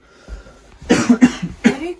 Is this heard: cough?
yes